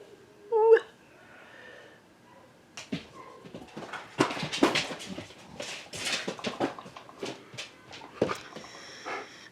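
A pet dog whimpers and whines in a quiet home, starting with one sharp, high yelp, followed by a run of soft, breathy cries and snuffles, close and fairly faint.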